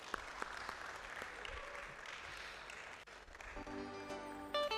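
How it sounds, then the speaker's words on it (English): Steady audience applause at a science week event, a dense even wash of clapping from a sizeable crowd, with music beginning to rise under it toward the end. "And I think that's something worth a round of applause."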